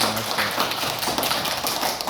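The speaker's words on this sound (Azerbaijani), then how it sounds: "Bir də bizi belə gözəl öyrətdiyi üçün Pərvanə müəlliməmizi də alqışlayaq." Children in a classroom applaud, a dense, steady patter of hand claps filling the whole moment at fairly close range with no speech over it.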